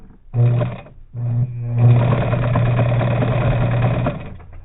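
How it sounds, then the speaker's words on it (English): A Bernina 830 sewing machine stitches a ditty bag with a steady, close motor hum, one short burst followed by a brief pause and then a longer continuous run of about three seconds before it stops. "I'm going to just stitch it as best I can"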